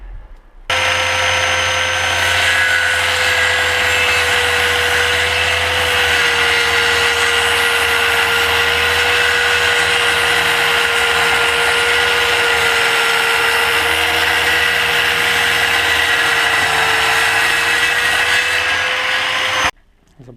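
A power tool cuts a wooden piece for a birdhouse, one steady loud whine with a constant pitch that runs unbroken for about nineteen seconds, then stops abruptly.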